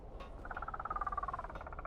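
A frog in the Mass Effect video game gives a faint, quick pulsing croak, a rapid train of clicks stretched into a slightly falling trill that lasts about a second, with no talking over it.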